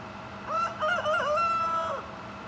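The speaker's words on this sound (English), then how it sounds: "the young rooster is trying to crow" A young rooster gives a single short, wavering crow, thin and uneven, lasting under two seconds against a quiet background.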